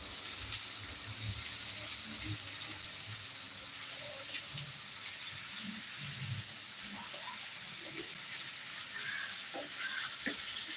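Food frying in a pan is stirred until browned and reduced, a soft continuous sizzle with occasional scraping and clinking of the spoon, fairly quiet and close.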